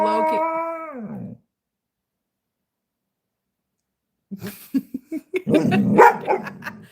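A person imitates a dog with a drawn-out, wavering howl-like bark that slides down in pitch, followed by silence and then laughing, chattering voices.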